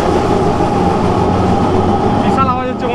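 A Kolkata heritage tram on the Gariahat-to-Esplanade route runs loudly over its rails, with a steady, close, heavy rumble and metallic rattle that continues unbroken throughout.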